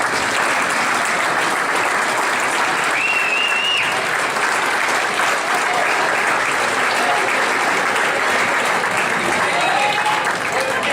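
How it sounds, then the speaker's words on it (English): Sustained audience applause fills a high school winter sports banquet hall as athletes stand, steady dense clapping throughout, loud and continuous with a few faint voices underneath. "I'd like everyone to give them a round of applause"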